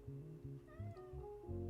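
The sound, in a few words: cat meowing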